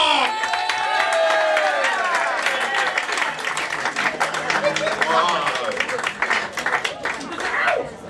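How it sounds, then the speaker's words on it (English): A comedy club audience applauds and cheers loudly as comedian Timothy Lark is introduced, with dense clapping, whoops and some talk running through the full stretch. "Big round of applause, please,"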